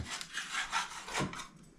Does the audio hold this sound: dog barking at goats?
no